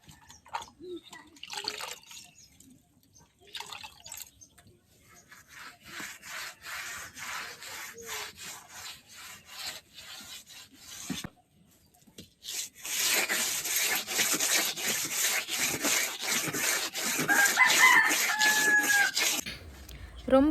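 A hand rubs and smooths damp mud plaster over the earthen wall around an indoor wood-fired stove, giving soft scraping, gritty strokes, sparse at first and then a denser, louder stretch of continuous rubbing.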